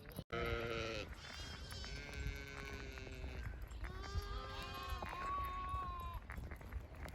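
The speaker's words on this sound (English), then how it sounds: "Look at this baby sheep." A baby sheep bleats repeatedly in quavering, wavering cries outdoors, with other sheep in the flock joining in and hooves or rustling underneath.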